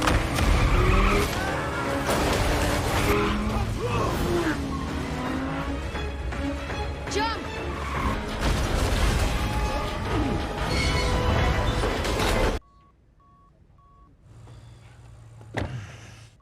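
A car pulls into a film scene with a loud, sustained engine roar and squealing, skidding tires. It cuts off abruptly into near silence with a faint low hum.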